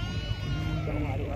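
Sheep bleating at a livestock market in Maarrat Misrin, a continuous overlapping chorus of nearby animals lasting the whole moment, with a busy crowd murmur underneath.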